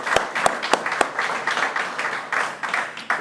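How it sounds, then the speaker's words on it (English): Applause at a team booster club meeting welcoming new coaching staff, a brief round of close, dense clapping with a few sharp individual claps at the start. "A quick little round of applause for them."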